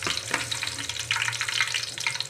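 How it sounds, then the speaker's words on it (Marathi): Whole spices, including bay leaf, black cardamom, cinnamon and peppercorns, hit hot oil for pulao and crackle in a steady, dense sizzle, close and continuous with no talk. "तेल गरम झालंय तर टाकत आहे."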